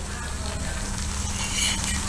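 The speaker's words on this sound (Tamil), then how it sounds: "அடுத்தது வாழைக்காயை பொரிச்சிடலாம்." Raw plantain pieces frying in oil over a medium flame, giving a steady, soft sizzle with a faint bubbling hiss at close range and no talking.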